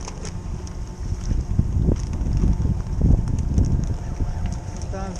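Wind blows across a fishing boat in a Galveston channel, a steady rumbling gust noise that rises and falls, with faint clatter and brief sharp sounds mixed in and no clear speech.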